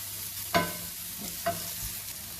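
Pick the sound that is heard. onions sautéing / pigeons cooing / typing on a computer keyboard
onions sautéing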